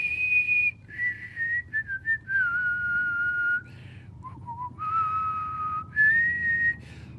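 A person whistles the Star Wars opening theme, clear sustained melodic notes rising and falling in phrases with short breaks, close and fairly loud over a low background rumble.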